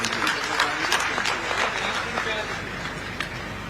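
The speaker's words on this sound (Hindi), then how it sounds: "जोरदार ताली बजा के सब लोग धन्यवाद दीजिए" A crowd at a political gathering in Chhattisgarh claps in a scattered, fairly faint burst, with distant murmuring and a steady low hum beneath.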